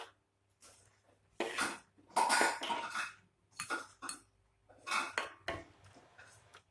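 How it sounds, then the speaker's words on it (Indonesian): Sambalado, a Padang chili sambal with asam kandis, is stirred in a pan, making repeated close scraping and clattering bursts with short quiet gaps between strokes. "Kemudian kita aduk-aduk sampai tercampur rata."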